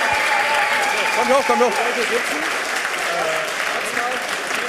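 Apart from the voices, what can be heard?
audience applause for the volunteer team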